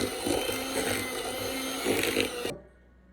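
An electric mixer creams butter and sugar in a bowl with a steady whirring motor hum that swells slightly a couple of times, then cuts off abruptly near the end, leaving near silence.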